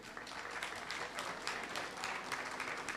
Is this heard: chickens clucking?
no